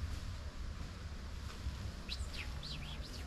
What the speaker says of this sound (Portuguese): O som, olha aí como é, só o som do passarinho.